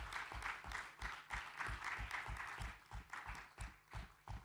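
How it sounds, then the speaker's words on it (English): An audience at an African engineering conference gives a round of applause. The clapping comes in surging, uneven bursts and holds at a moderate level for several seconds. "Can we please give her a big round of applause?"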